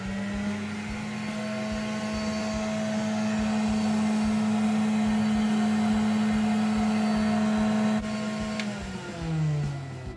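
A vintage Remoco Model A1 vacuum cleaner from the 1940s–50s, used as a workshop shop vac, drones with a steady loud motor hum for about eight seconds, then its pitch slides down as it spins off near the end.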